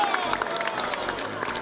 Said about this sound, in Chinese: 我们掌声跟他祝生日快乐